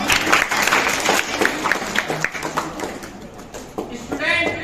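Audience applause for teachers at a college Teacher's Day speech, with clustered claps loudest at first and thinning out, before a voice starts speaking near the end.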